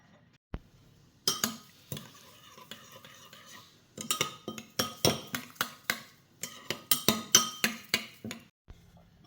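A spoon stirring chia seeds in water, with a single clink followed by rapid, irregular metallic clinks and scrapes against the container, close and fairly quiet.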